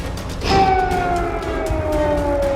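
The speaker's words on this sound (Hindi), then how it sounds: "कीव में इमरजेंसी सायरन की आवाज।" A wailing air raid siren in Kyiv sounds, its steady tone slowly falling in pitch, heard over a dense background of rumble and crackle.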